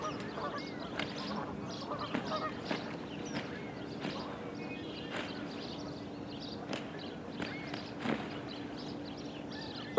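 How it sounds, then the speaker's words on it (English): Geese honk and squabble repeatedly in a fight outdoors, fairly distant and moderate in level, with scattered sharp calls over a steady ambient background and a faint continuous hum. "still watching a freaking goose fight"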